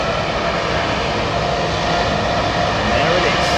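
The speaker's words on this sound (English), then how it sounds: "American 787-9 Dreamliner, Philadelphia" An American Airlines Boeing 787-9 Dreamliner jet at an airport, a loud, steady engine roar, close by and continuous, with a voice over it.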